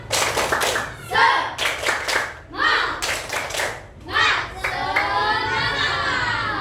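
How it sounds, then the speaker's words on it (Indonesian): A class of schoolchildren performs a rhythmic spirit clap in a classroom, bursts of sharp clapping alternating with shouted chant lines from the children. "kita tepuk semangat dulu ya. Tepuk semangat."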